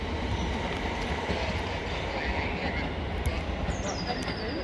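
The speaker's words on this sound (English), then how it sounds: "That's the Selhurst train." A train rumbles steadily past at East Croydon station with a dense, continuous roar of wheels on rail, then a faint squeal near the end.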